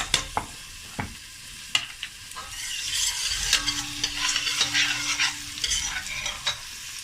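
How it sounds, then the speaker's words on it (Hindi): Chopped onions sizzling and crackling in a hot pan for masoor dal, with occasional sharp clicks of a spoon stirring against the pan. "ये प्याज जो मैंने चॉप किया था वो डाल दिया है"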